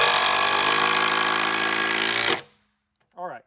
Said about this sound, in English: my assumption is that an impact will do what we need it to do.